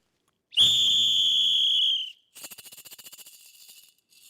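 A single loud, shrill whistle blast lasting over a second, followed by a softer fluttering trill from the same whistle that fades out.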